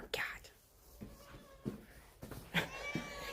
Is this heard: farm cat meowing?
yes